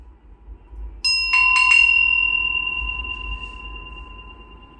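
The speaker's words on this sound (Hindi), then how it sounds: "हमारी घंटी बज चुकी है।" A single bright bell strike, quickly followed by a couple of lighter taps, then a clear ringing tone that slowly fades out in a quiet room.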